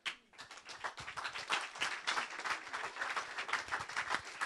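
An audience applauds Alain Hutchinson at an awards evening in Brussels, with crisp individual claps that build quickly from silence into sustained, lively clapping with faint crowd noise.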